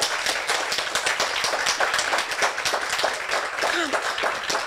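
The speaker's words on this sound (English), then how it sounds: "I think they deserve for a big applause for their work." Applause for teachers from an audience at an open education policy forum, dense and steady with many overlapping hands close by, filling the whole stretch.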